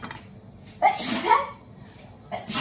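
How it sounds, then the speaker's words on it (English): A single sharp sneeze triggered by cumin while making a shrimp avocado salad, breaking out loud and close at about one second, with a faint second burst near the end. "Sorry, I sneeze for the cumin."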